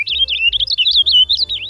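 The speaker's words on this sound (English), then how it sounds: "Purple finches change their song with the seasons." Purple finch song: a rapid, continuous high-pitched warble of slurred, looping notes over about two seconds, loud and close with no voices.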